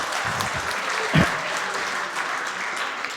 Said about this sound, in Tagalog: Isa pa nga mong palakpak para kay Solen.